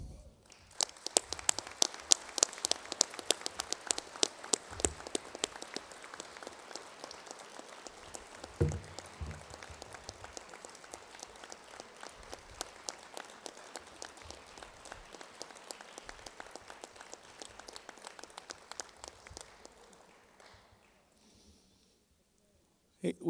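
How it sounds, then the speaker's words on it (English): An audience at a Reagan Day dinner in Kingsport, Tennessee, applauds in a long, steady round of clapping that fades out near the end, with some talk beneath it. "so you'd have to applaud longer while he made his way to the stage."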